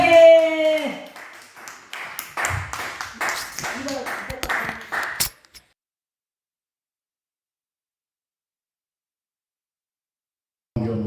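Clapping from a congregation at a Thursday evening worship gathering in a church, a few seconds of brisk claps following a singing voice, then silence before a voice returns at the end.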